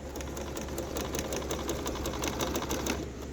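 A Bernina 1630 sewing machine runs a straight stitch, a quick even mechanical clatter of needle strokes at close range, fairly quiet and with no talking.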